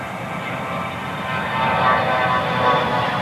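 A regional jet airplane roars steadily nearby, its broad rushing engine noise swelling slightly partway through the short stretch.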